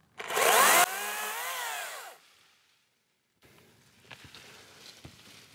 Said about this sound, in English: first impressions on this little Makita is it's pretty daggum stout for a battery powered chainsaw.